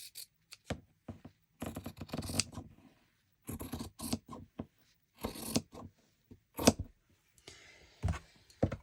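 Scissors snip through paper along a fold in short separate bursts of crisp cutting, close and fairly quiet, with pauses between strokes.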